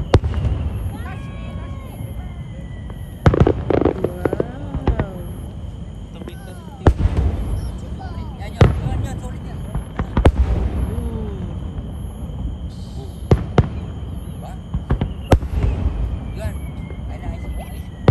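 Fireworks pop and boom at irregular intervals over Fukushima, Japan, sharp cracks over a busy background, while people talk and exclaim throughout.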